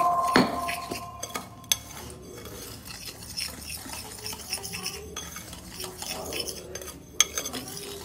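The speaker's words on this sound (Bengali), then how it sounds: "শুকনোটাকে ভালো করে মিশিয়ে নিলাম" Dry ingredients for patishapta are mixed in a bowl, with a spoon scraping and clinking against the sides in irregular strokes and a few sharper knocks, close and clear.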